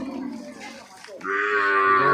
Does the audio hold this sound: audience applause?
no